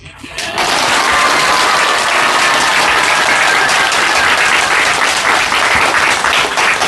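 A crowd claps loudly and steadily, dense applause that starts abruptly and holds without letup for several seconds.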